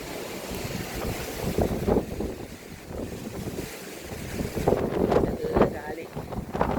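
Wind buffeting a microphone on the open deck of a cruise ship off Dubai, gusty low rumbling that rises and falls, with sea and boat noise beneath and a voice speaking at moments.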